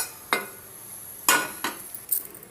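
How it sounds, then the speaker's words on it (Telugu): A cooking pot set down on a stove while tamarind pulihora is being prepared, heard as a few sharp metallic clanks spaced across a quiet background, close by, with no talking. "గిన్నె పెట్టి"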